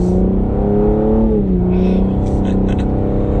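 A 2021 Cadillac CT5-V engine revs under throttle in normal mode, a loud steady drone that climbs in pitch, dips briefly and rises again, heard from inside the car.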